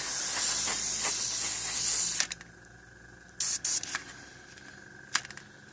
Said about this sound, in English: So hit the air first on your trigger to clear any paint that's sitting on the needle, and then pull back